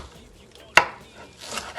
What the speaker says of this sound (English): you want to try to cut the kale as thinly as possible